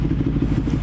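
Yamaha MT-09 motorcycle rumbling close and loud in a brief burst of low, pulsing engine throb.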